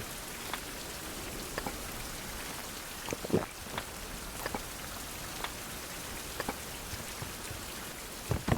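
Steady rain falling in the Survival: Fountain of Youth video game, a continuous soft hiss with scattered louder drops spattering close by, heard alone without talk.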